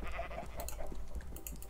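A Minecraft sheep gives a few wavering bleats in close succession, clear and alone over a steady background hum.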